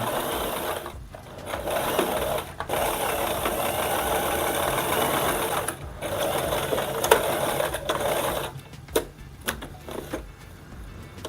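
A sewing machine stitches a curved sleeve seam, joining the sleeve to a shirt body, its motor buzzing almost continuously in close, loud runs broken by brief pauses and light handling clicks.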